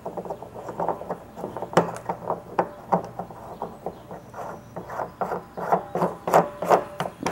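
A lock nut is tightened onto a bulkhead fitting on a rain barrel, making close, irregular rubbing and ratcheting scrapes in short bursts, with no talking.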